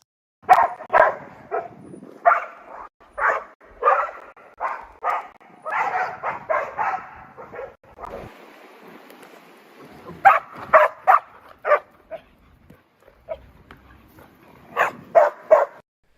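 A dog barks repeatedly in uneven bursts with some whimpering and yips between, loud and fairly close, in a rural Kentucky county, with no talk over it.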